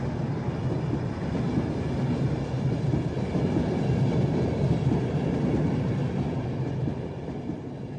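A British Rail Class 91 electric locomotive hauling Mark IV coaches runs steadily past, giving a continuous, loud, even rumble with a dense, grinding wheel roar for the whole stretch, without any voices.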